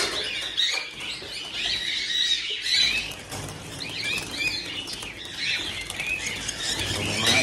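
Many birds chirp continuously in a busy chorus, with soft fluttering and wing flaps mixed in at moderate volume throughout.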